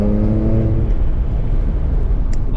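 Supercharged Audi S4 B8 with quattro pulls under load, a loud close harmonic engine tone that fades after about a second into steady road and wind roar while driving.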